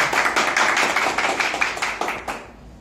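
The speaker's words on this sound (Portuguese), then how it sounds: "Palmas aí pro Adriano" Audience clapping at a professional training talk, a loose burst of hand claps that thins out and fades after a couple of seconds, with no talking over it.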